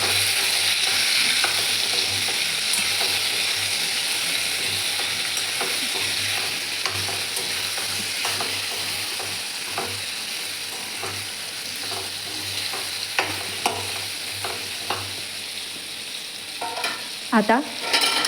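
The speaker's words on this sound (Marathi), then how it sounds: "चवीप्रमाणे मीठ, सर्व व्यवस्थित मिक्स करून घ्यायचे." Raw mango curry (kairichi bhaji) being stirred in a pan, with a steady soft sizzle of frying under continuous scraping and stirring strokes, close and moderately loud, a few sharper clinks of the spoon near the end.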